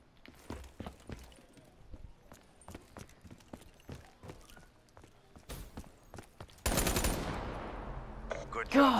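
Gunfire in an S&D (search and destroy) video game match: rapid sharp shots in uneven bursts, some close and some more distant, ending in a louder, denser stretch of firing and noise.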